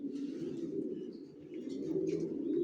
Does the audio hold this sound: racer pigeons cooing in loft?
yes